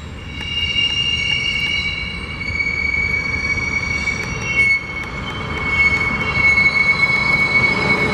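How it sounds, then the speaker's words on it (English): A rail car squeals through a retarder at the BNSF hump yard in Pasco, Washington, braking with piercing, sustained metallic screeches over a close, loud rolling rumble that swells toward the end. "Coming through the retarder, slowing that thing down."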